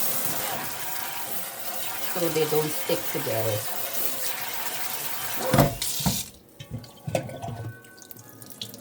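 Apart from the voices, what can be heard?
cold water running from a tap into a sink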